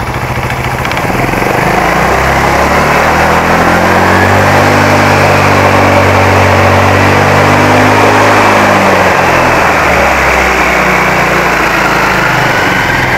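An automatic scooter engine revs up steadily, its pitch climbing then falling back, loud and close throughout with no voices.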